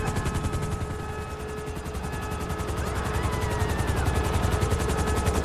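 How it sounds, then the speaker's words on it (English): A helicopter arriving in GTA 5 beats steadily and loudly throughout, its rapid rotor chop pulsing with a whining engine tone and growing slightly louder as it draws closer. "Helicopter inbound!"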